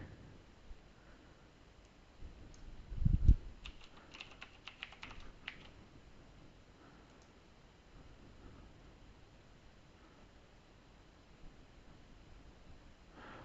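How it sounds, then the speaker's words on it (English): Keyboard typing on a computer while entering a tenant admin name, a short faint burst of keystrokes near the middle of an otherwise quiet stretch. "It helps if I can type correctly."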